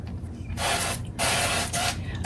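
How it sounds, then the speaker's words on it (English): Olive oil spray bursts onto stuffed peppers topped with cheese and flat-leaf parsley: two close, loud hissing sprays, a longer one followed by a shorter one, with no talking. "I'm going to give these a spray of olive oil, glisten them up."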